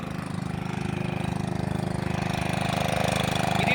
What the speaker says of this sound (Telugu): మరలా మనం స్టార్టింగ్ ఇంజిన్ దగ్గరికి వచ్చాం